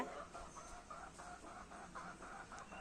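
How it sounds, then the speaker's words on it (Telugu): Game-fowl hens cluck in quick repeated bursts, a soft rhythmic clucking close by in a quiet setting. "అక్కడ కేరుతున్నాయి చూడండి ఫ్రెండ్స్"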